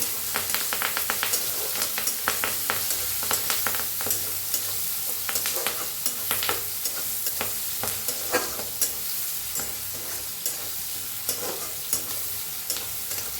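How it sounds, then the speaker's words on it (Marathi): Onion and curry leaves fry in oil with asafoetida and cumin, giving a steady, close sizzle broken by frequent scrapes and clatters as the mixture is stirred for about thirteen seconds. "टाकूया कांदा कढीपत्ता छान असं भाजून घेऊया"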